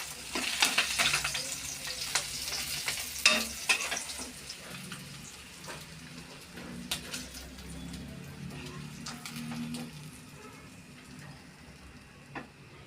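Koi fish frying in hot oil give off a steady sizzle, louder at first and then settling, with occasional clinks and stirring noises from the pan.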